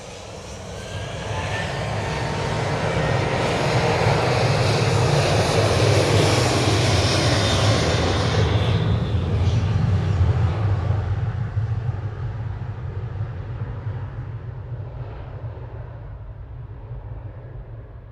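Ryanair Boeing 737-800 jet at Manchester Airport, a loud broadband engine roar that swells over several seconds, holds steady, then slowly fades as the aircraft passes, heard alone.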